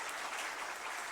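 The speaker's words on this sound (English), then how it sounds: "the entire team here deserves a big round of applause for" An audience gives a steady round of applause for a product team at a launch event, a dense wash of many hands clapping together with no pause or break.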